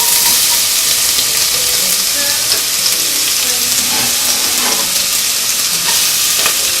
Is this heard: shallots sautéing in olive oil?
yes